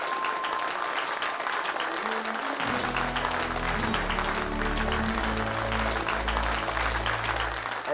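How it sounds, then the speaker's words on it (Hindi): Applause for a college dean arriving at an event in India rises into loud, steady clapping from a crowd, filling the hall without pause alongside low musical tones. "जोरदार तालियों से इनका स्वागत किया जाए।"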